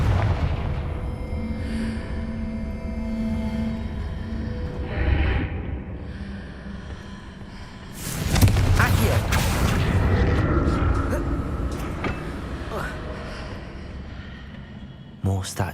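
A Confringo fire spell is cast in the Hogwarts Legacy video game, and a sudden loud burst of explosive noise breaks out midway, followed by crackling debris that fades over several seconds after quieter game ambience.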